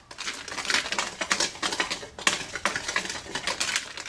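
Dry yeast being mixed in a bowl with a utensil, a quick steady run of close scraping and clinking strokes with brief pauses and no talk.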